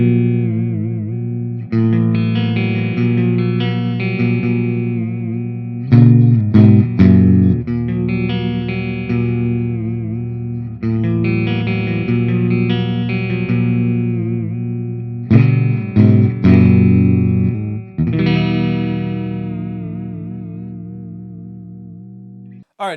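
Clean electric guitar riff on the neck pickup of a Firefly Dimebag Stealth, warm, rounded tone, strummed chords and single notes alternating in a steady pattern, played alone with no talking.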